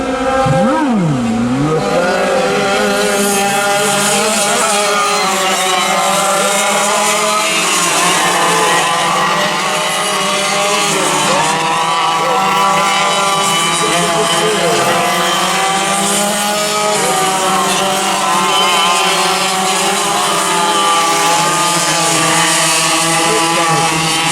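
Vintage Yamaha racing kart engines scream together on the first lap of a vintage kart race at New Castle, a loud, continuous, high whine whose pitch rises and falls as the karts accelerate and lift.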